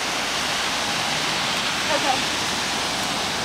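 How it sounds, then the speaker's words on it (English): Ocean waves crashing, a loud, dense, continuous roar of water with little rise and fall over a few seconds, heard close with no clear talk. "Look at the waves. The waves are awesome."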